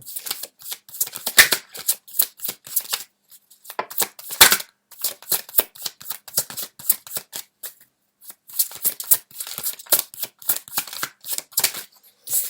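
Tarot cards are shuffled by hand in a close, crisp series of riffles and slaps, in irregular bursts with short pauses between them.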